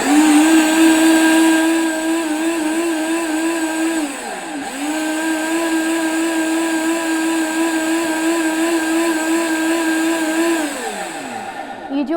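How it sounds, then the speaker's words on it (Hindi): A kitchen blender whirs steadily while blending an amla and turmeric remedy, its motor holding a loud, even drone, dipping briefly once in the middle and winding down near the end. "अब इसको हम करेंगे अच्छे से ब्लेंड।"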